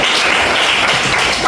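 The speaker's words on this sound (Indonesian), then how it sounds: "tepuk tangan yang sudah menyampaikan tujuannya" A group applauding, a brief dense wash of clapping hands heard up close and alone, steady in loudness throughout.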